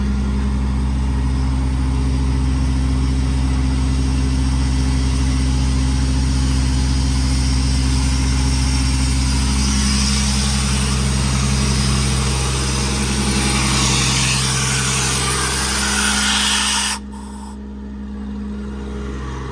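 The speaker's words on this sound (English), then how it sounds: "Now the compressor's on." A Kubota diesel engine drives the air compressor of a Miller Enpak unit on a 2016 Ford F550 service truck. It runs with a loud, steady droning hum and a low throbbing tone, then shifts and eases slightly near the end.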